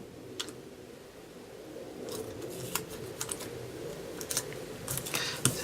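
Sticky tape is pulled and pressed by hand to hold a card in place during card making. A soft run of small crackles and clicks sounds close by, with no speech.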